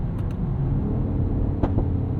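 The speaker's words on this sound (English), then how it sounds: "some proper pops and burbles there from the exhaust" Exhaust of a 2022 Mercedes GLE 53 AMG gives a couple of sharp pops and crackles over a steady low engine rumble and road noise, heard from inside the car at night.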